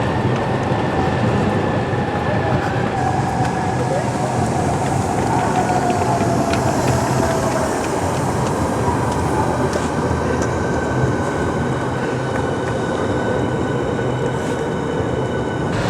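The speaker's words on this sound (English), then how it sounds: "can hear a fast train." A fast train rushing past on a line near Stratford in east London, a continuous loud roar of wheels and rails that holds steady throughout, with no talking.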